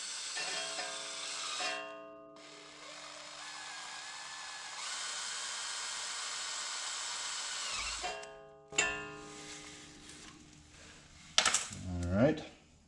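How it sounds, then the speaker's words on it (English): A power drill whines steadily while boring a hole in a part of a 2016 Jeep Wrangler near the backing plate, running in long high-pitched stretches with brief stops, then clanks and scrapes as it finishes. "let's see if we can get a hole kind of drilled in this thing"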